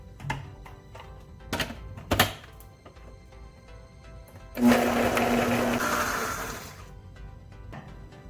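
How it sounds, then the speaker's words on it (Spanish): A blender grinds salsa in a home kitchen with a loud whirring roar of a few seconds, preceded by a few thumps and clatters. "Y vamos a moler todo y nuestra salsa estará lista."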